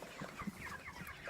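Backyard chickens cluck softly in short, scattered notes, fairly faint and steady against light outdoor ambience.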